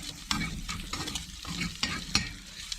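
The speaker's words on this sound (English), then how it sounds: "Got that warming up to sizzle up that bacon." Bacon sizzles and crackles steadily in a pan on a wood cook stove, close by, with a few soft scraping stirs and pops along the way.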